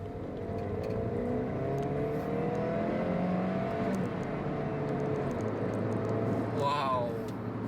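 A 2017 VW Polo 1.2 TSI engine revving in sport mode after a downshift, a steady rising and falling drone heard from inside the car, with a voice briefly audible over it.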